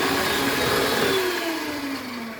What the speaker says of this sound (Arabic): ضربنا كده المواد السايله كده مع بعضها